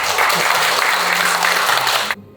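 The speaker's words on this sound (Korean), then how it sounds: "큰 박수 부탁드립니다" Applause from an audience at a community event in Dalseo-gu, dense steady clapping for about two seconds that stops abruptly.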